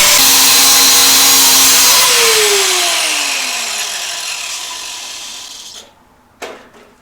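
A power cutter slices through a small metal piece clamped in a vise during engine cradle modifications, a loud harsh grinding whine for about two seconds that then winds down gradually to silence, followed by a brief clatter.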